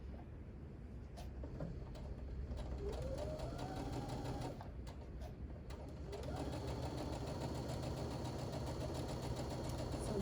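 A sewing machine stitching fabric along a marked line, its rapid mechanical whir running steadily near the listener, pausing briefly around the middle and then speeding up again.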